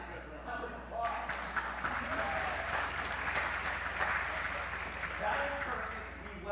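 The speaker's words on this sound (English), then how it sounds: "I think that is a round of applause." Congregation applauding during an all-ages water communion church service, a steady wash of clapping from a large room with a few sharper nearby claps, continuing for several seconds with some voices underneath.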